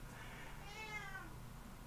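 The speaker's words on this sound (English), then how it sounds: "That's our hungry cat, Darla." A hungry cat meows once, a drawn-out, fairly faint cry over a low steady background hum, with no talking.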